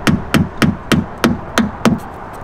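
Plastic trim clips are pushed into a BMW M340i, giving seven sharp, evenly spaced knocks or snaps close by, with no talking.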